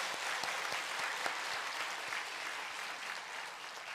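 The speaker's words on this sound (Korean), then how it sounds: "우리 박수 한번 쳐주세요." A church congregation applauds steadily for a choir during a Sunday afternoon worship service; the soft, even clapping fills the whole stretch without a break.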